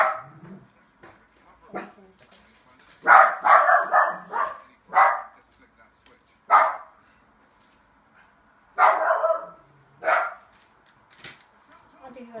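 Indoors, a dog barks in repeated bursts, clusters of sharp barks separated by pauses, fairly close and moderately loud, with children's voices talking around them.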